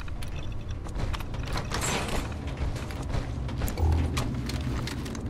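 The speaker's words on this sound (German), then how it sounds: "Na, geht die Tür voll nämlich auf." A wooden door creaks open inside the Fallout 76 game world, a drawn-out mechanical groan over steady background game ambience, loud and close throughout.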